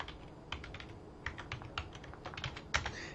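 Fingers tap out a short burst on a computer keyboard, quiet close clicks coming in quick irregular runs with a slightly louder keystroke near the end.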